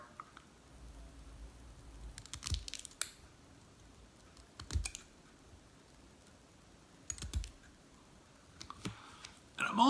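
Scissors snip through the weed guard of a bass fishing jig in a few quiet, separated clicks spaced several seconds apart, close and faint against a soft background.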